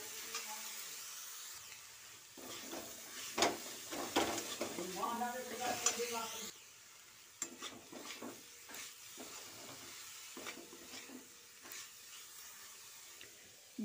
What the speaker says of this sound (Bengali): ঘন ঘন নাড়তে হবে, না হলে কিন্তু তলায় ধরে যাবে।